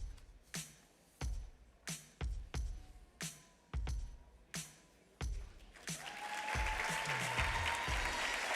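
Applause breaks out from an audience at a school awards ceremony for an education support staff finalist, following a series of sharp separate thumps, then swelling into steady clapping for the last few seconds.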